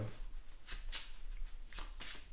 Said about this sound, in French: Prenez les 3 cartes qui sont au-dessus de votre deck et remettez-les mélanger dans votre deck